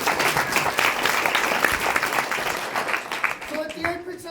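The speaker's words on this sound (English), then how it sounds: "Round of applause for your mighty chiefs." An audience at a Māori village cultural show in Rotorua claps steadily and fills the room with dense, continuous applause for the chiefs, with a few voices under it as the clapping fades near the end.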